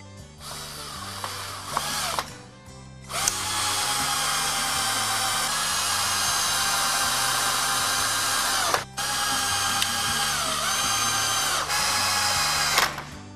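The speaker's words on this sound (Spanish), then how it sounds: "apretamos un poco y ahora vamos a atornillar." A power drill drives screws to fix castor wheels onto a wooden planter, whirring in long sustained bursts with short pauses and pitch dips as each screw seats, close and loud.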